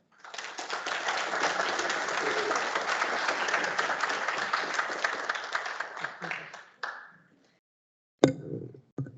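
Applause from an audience gathered for a lunchtime meeting on shortening the work week, sustained for about seven seconds, then breaking off, with a brief final burst of claps near the end.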